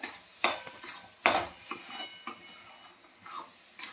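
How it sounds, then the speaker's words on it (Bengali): A utensil stirs grated coconut into a chira pitha mixture in a pan, making intermittent scraping strokes and light metallic clinks, close and fairly quiet. "দিয়ে এটা আমি ভালো করে নাড়বো, এটা পাকটা যাতে আটা আটা হয়"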